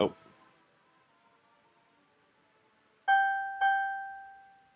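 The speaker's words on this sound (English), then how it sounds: "that was my ringtone" A soft fading tone at the start, then two bright chime-like electronic phone ringtone tones in quick succession, each ringing out and decaying slowly.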